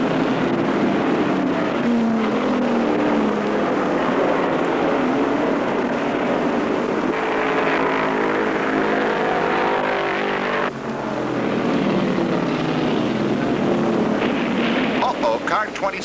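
NASCAR Modified race cars roar around the short track at Martinsville Speedway in 1975, a loud continuous engine drone with rising and falling pitch as cars pass close by, no talk over it.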